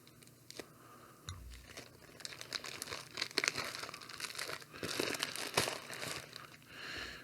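A blade slices through heavy packing tape while a box of kitchen knives is opened, giving continuous close crinkling, tearing and crunching of tape and cardboard at a steady, busy level.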